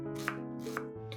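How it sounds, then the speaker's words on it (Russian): A knife cuts an onion into small cubes on a board, with two distinct chops about half a second apart over quiet background hum. "Одну луковицу нарезаем небольшими кубиками."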